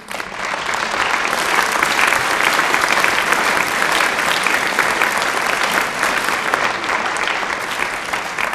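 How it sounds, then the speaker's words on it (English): Dense, sustained applause fills a large chamber during a governor's State of the State address, loud and steady throughout with a thick wash of many hands clapping at once. "I want you to do a round of applause"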